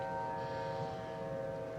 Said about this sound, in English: Them sirens are very creepy sounding.